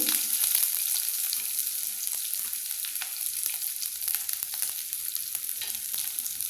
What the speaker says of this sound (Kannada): ಈರುಳ್ಳಿ ಏನು ಕಟ್ ಮಾಡಿದ್ನೆಲ್ಲ ಈರುಳ್ಳಿ ಹಾಕ್ತಾಯಿದ್ದೀನಿ